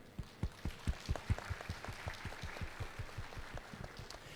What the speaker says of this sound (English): Please join me to give them a big round of applause.